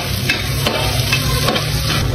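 Garlic, onion and ginger sautéing in a pan for a badoy soup, giving a loud, dense, continuous sizzle with faint stirring strokes, close up, without speech.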